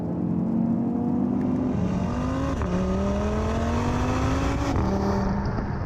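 Audi TT RS five-cylinder engine growls with a warbly tone, revving up through gears in rising sweeps with brief drops at each shift, loud and close, no voices.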